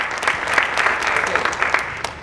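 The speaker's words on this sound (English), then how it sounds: "Another big hand of applause." Audience at a psychology talk claps for a volunteer on stage, a dense, steady wash of many hands continuing evenly for the whole stretch, fairly loud and close, with no one speaking over it.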